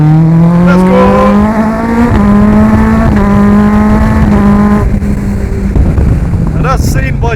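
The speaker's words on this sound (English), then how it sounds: "a Suzuki Hayabusa powered race car, which is of course road legal" Hayabusa-engined, road-legal race car at full throttle on a road, its high, rising engine note climbing through the gears with quick shift breaks, loud and close with heavy wind noise.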